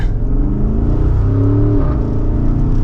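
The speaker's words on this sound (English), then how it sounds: "Even with the sport exhaust on, you can definitely hear it," A 2023 Porsche Cayenne Turbo with sport exhaust rumbles with a deep exhaust note, pitch shifting partway through as it shifts gear, loud and close with no talking.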